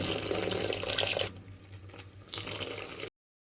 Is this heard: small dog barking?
no